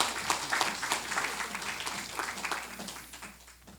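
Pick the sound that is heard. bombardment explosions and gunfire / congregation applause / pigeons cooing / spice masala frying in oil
congregation applause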